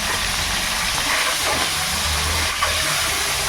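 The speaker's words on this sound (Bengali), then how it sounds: "আর এই তেলের মধ্যে ডিমগুলো দিয়ে দেবো" Eggs hiss and sizzle steadily in hot oil after a piece of fish has been fried in it, a dense, even crackle filling the whole stretch with no voices.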